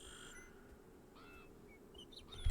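Faint, thin bird chirps in the video game Beyond Eyes, a few short whistly calls over quiet ambient background.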